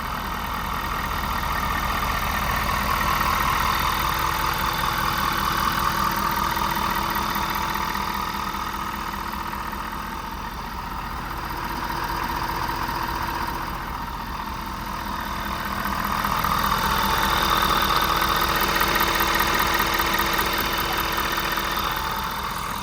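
A 2022 Ford F-550 truck engine idles steadily for over twenty seconds, a continuous close rumble with a slow swell and dip in loudness and a faint ticking texture, with no voices.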